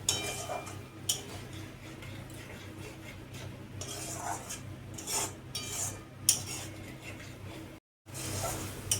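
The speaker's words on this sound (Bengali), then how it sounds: "মশলাগুলো আমি এভাবে সব কষিয়ে নিয়েছি ভালো করে।" A spice paste is stirred and sautéed in a pan for a cauliflower mushroom curry, giving close, steady scraping and rubbing with irregular ticks and clinks from the utensil against the pan, broken by one short pause.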